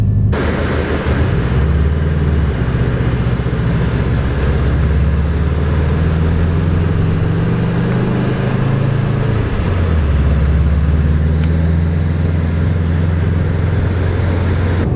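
A 2017 Subaru WRX STI, just fitted with a plugged tire, drives along the road with a steady low engine drone and broadband road and tire rumble, loud and continuous throughout with no talking.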